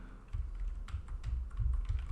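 Quick bursts of keystrokes on a computer keyboard, close and steady, with short pauses between runs of taps and no speech.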